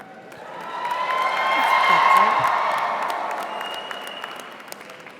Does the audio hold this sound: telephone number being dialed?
no